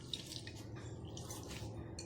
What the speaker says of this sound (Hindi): इनको डिप करके निकालना है पानी में से